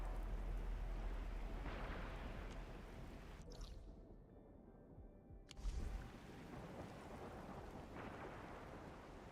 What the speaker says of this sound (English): It's raining harder. I can't hear anything except for the rain.